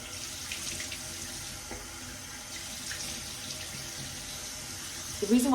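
Cold tap water runs steadily into a bathroom sink during face washing, a soft constant splash with faint splattering and a brief louder splash near the end.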